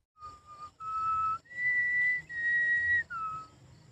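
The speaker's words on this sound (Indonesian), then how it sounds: "mereka mendengar siulan dari salah satu warga" Night-time whistling by a villager: several clear, sustained tonal notes rising and falling in a short melodic phrase, close and alone against a quiet background.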